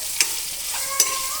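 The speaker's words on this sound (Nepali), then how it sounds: "आलु राखेर आलु भुट्दैछु" Potatoes fry in a pan with a low steady sizzle, broken by two brief clinks of a utensil against the pan.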